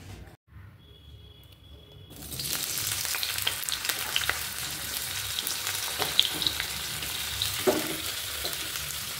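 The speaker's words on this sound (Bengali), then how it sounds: "তো চলো তাড়াতাড়ি ভাজাগুলো করে নিই।" Food frying in a frying pan and a wok, with potatoes and beans going in; after a quiet start, loud, steady sizzling swells up close and continues, dotted with small pops and utensil scrapes, no talking.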